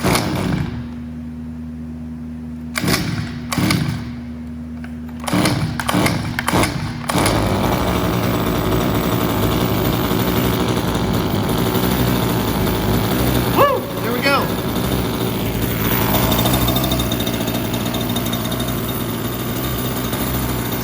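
A Redcat Rampage XR gas-powered RC rally car engine makes a few short sputtering bursts, then catches and runs continuously with a buzzing, chainsaw-like drone, rising and falling slightly with throttle, close and loud.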